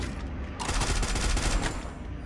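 Sustained automatic gunfire in the mobile battle royale game Free Fire, a loud rapid stream of shots that stops briefly at the start and runs steadily after, with no talking over it.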